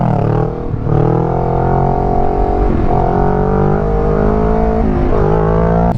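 Kawasaki Ninja 650 motorcycle shifting gears without the clutch, engine loud and near, revs rising and then dropping sharply at several clutchless shifts before climbing again.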